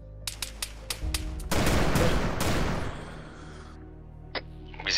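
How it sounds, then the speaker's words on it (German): Gunfire in the video game Arma 3: a few separate shots, then a sustained loud burst of rapid automatic fire lasting over a second that fades into a ringing tail, followed by a couple of isolated later shots. "Wer schießt hier von euch?"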